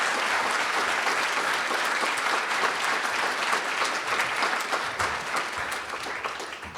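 A room full of attendees at a Manufacture San Jose breakfast meeting in 2020 gives a sustained round of applause, thick and even throughout, slightly distant, gradually tapering at the end, with no one speaking over it.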